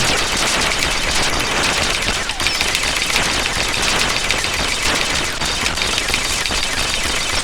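Continuous rapid gunfire from the Atari ST game Anarchy, a dense, unbroken crackling barrage at a constant loud level from start to finish, with no voices.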